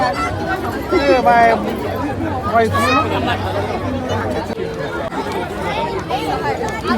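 Dense crowd chatter fills a busy village-themed fair in Pune, many overlapping voices murmuring and talking nearby at steady volume, with no single voice dominating.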